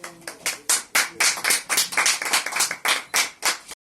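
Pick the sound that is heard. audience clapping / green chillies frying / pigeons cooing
audience clapping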